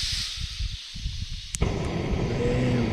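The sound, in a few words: camping stove being lit and burning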